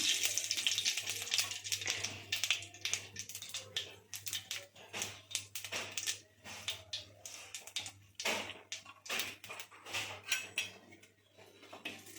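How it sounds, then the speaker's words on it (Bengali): Cumin seeds and a bay leaf crackle and spit in hot oil in a pan, a steady close-up sizzle with scattered pops and light clinks of utensils throughout. "এবার আমি জিরে ফোড়নটা দিয়ে দিচ্ছি, তেজপাতাটা দিলাম"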